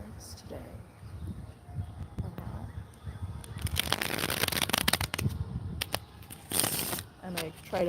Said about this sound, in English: get a good shuffle in there.